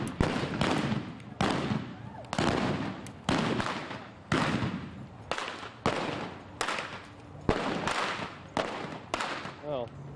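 Repeated loud gunshots ring out at a cowboy shootout reenactment at a Texas boomtown museum, sharp blasts coming in quick bursts roughly every second, with voices and crowd chatter running underneath.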